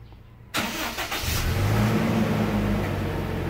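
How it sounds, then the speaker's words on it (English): A car engine is started up close during a power steering fluid change, cranking briefly and catching, then settling into a loud steady idle that rises slightly. "buksan na lang natin yung ating makina"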